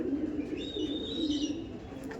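Pigeons held in the hand at a Behala pigeon-fancying loft coo softly and steadily, close by, over a low continuous murmur of the birds throughout.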